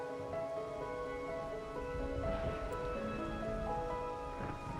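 Steady rain falls in the video game Wuthering Waves, a soft continuous patter under sustained tonal game music, fairly quiet and without voices.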